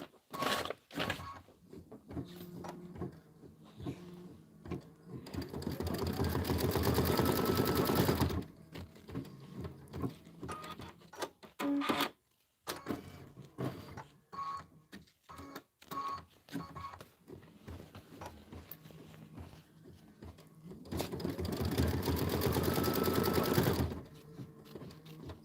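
An embroidery machine stitches a Kimberbell Enchanted Winter design with penguin, pine tree and deer motifs, running in two long rapid mechanical bursts separated by quieter stretches of scattered clicks and handling sounds.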